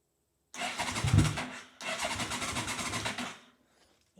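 Yamaha RoyalStar 1300 V4 motorcycle with carbs back on factory jetting cranking and firing, two close bursts of starter and engine roar, a brief pause between them, then cutting to quiet.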